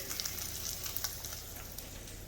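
Steady, light sizzling of halloumi cheese frying in a little oil in a pan, with soft crackles and pops scattered over a continuous hiss.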